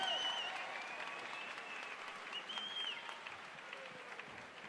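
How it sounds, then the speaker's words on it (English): An arena crowd at an MMA event in Jacksonville Veterans Memorial Arena, Florida, applauds both fighters, a soft, distant patter of many hands with a few whistles rising above it, slowly tapering. "how about a nice round of applause for both fighters, please?"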